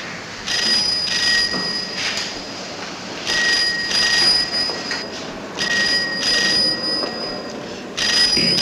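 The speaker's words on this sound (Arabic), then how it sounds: "ردي على التليفون." A telephone rings in repeated short bursts of bright electronic tones, evenly spaced, over a faint background hiss.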